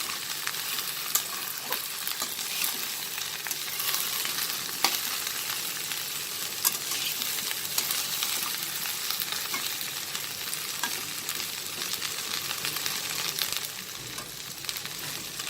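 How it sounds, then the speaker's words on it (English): Okra, also called ladies finger, sizzles and fries in a hot pan while being sautéed and stirred, a steady close crackling hiss with small scraping ticks throughout, no voices. "And I will saute it now. Mix it nicely."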